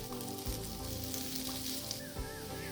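Raw plantain slices fry in a pan for a spicy vazhakkai varuval, giving a steady, close sizzle with faint crackles and a couple of soft low knocks, no voices.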